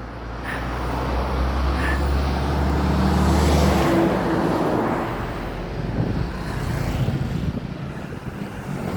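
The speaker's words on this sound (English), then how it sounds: "I see people going, you know, cars" Cars and traffic passing along a road by a busy farm in the Vaud countryside, a continuous whooshing rumble that peaks midway then fades, with wind buffeting the microphone.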